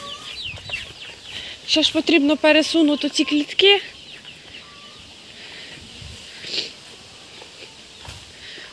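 Ducklings and other poultry in a farm cage let out a short burst of loud, rapid calling and clucking, then fall back to faint background chatter while someone speaks nearby.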